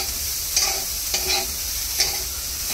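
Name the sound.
French beans being stirred in frying pan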